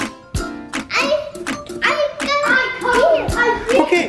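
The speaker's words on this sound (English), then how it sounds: "And if you clap two times?" A young boy claps his hands in short, sharp bursts during play with a marble run set, the claps loud and close, with a voice talking between them.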